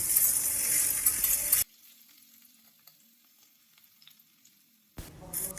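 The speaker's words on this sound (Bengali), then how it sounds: "এখন কিন্তু আলুগুলোকে আমি ভেজে নেব" Cut potatoes fry in mustard oil in a wok with a loud, close crackling sizzle that stops abruptly for a few seconds of near silence, then bursts back in.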